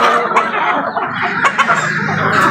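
A crowd of chickens and chicks clucks and chatters continuously at close range while being fed from a bucket, with a few sharper calls rising above the dense flock noise.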